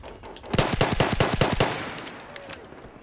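A P08 pistol fires a rapid burst of about nine sharp, close, loud shots in a video game, followed by a fading echo and brief quiet.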